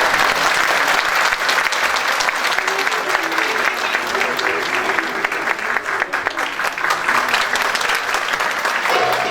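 Loud, sustained applause from a large crowd, steady clapping filling the whole stretch without a break.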